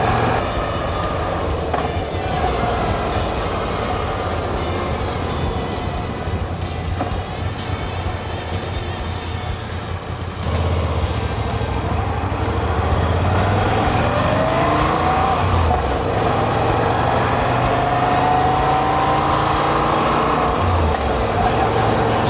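A motorcycle riding on the road on the way toward Paris, its engine droning steadily with loud wind rush and a brief dip partway through, no talk over it.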